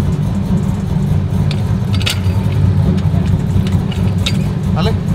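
Sequential burnout truck engine idling in reverse, a steady low rumble that stays near and loud throughout, with people talking over it.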